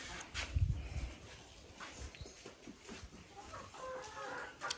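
Young chicks in a coop cheep and peep softly in a steady low chatter, close but faint, broken by a few small thumps and shuffles.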